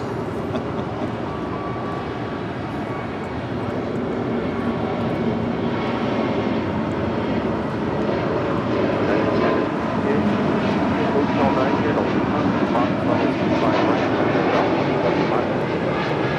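An Airbus A320 of Spirit Airlines departing Los Angeles International Airport sends out a sustained, loud jet engine roar that swells slightly and stays constant, with a voice talking over the noise.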